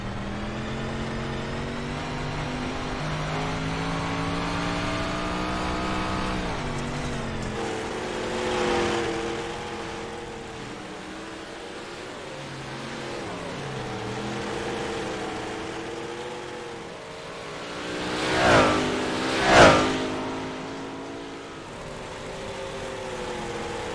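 Race cars lap an oval track, engine tones rising and falling as they circle, with a couple of louder close passes near the end standing out over the steady far-off drone.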